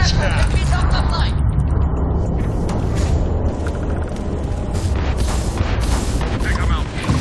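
Heavy rumbling blasts and booms roll continuously as enemy ship engines explode during Starfield space combat, with dense crackling impacts, loud and sustained with a steady game soundscape beneath.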